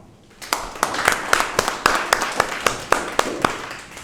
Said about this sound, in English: please welcome in a huge round of applause